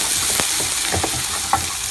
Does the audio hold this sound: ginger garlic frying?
yes